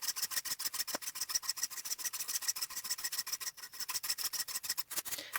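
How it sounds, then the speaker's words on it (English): A tenon saw cuts a slit into a beech tenon with quick, rhythmic back-and-forth strokes, each one a bright rasping scrape, close and even throughout. "I decided to use my tenon saw to cut the slit."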